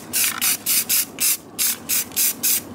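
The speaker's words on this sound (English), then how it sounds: "I hold the can back about 10 inches roughly when I'm spraying, and then kind of do pulses" Spray paint can aimed at a cast piece from about ten inches away outdoors, giving eight short, sharp bursts of hiss in a steady rhythm with brief silent gaps between them, close and fairly loud.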